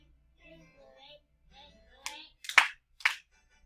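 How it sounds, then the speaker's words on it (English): Three sharp hand claps ring out in quick succession after a short stretch of faint, quiet sounds. "Clap those hands."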